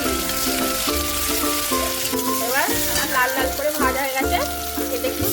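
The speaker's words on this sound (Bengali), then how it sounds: "এবার আমি মাছের তেলে পেঁয়াজ পেঁয়াজটা একটু লাল লাল করে ভেজে টমেটো কাঁচা লঙ্কা চেরাগুলো" Onion, tomato and slit green chillies sizzle steadily in fish oil left from frying pomfret, a loud, continuous frying hiss close up with faint stirring throughout.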